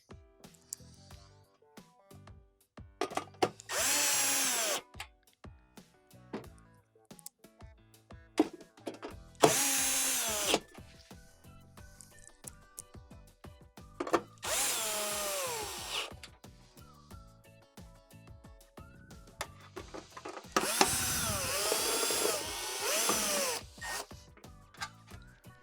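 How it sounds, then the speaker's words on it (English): A power drill drives screws into the cover of a Whirlpool Swash washer, with four separate whirring bursts of a few seconds each, separated by quieter clicks and handling noises. "you're gonna go ahead and reinstall your 6 1/4-inch screws on the cover"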